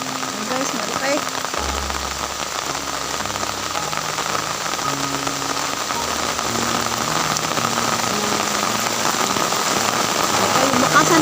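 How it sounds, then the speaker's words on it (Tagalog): Heavy rain pouring steadily at a tilapia net-fishing spot in Toledo City, Cebu, a dense, continuous hiss of drops on surfaces with a low hum and faint tones beneath. "Talaga ang lakas ng ulan mga karastar."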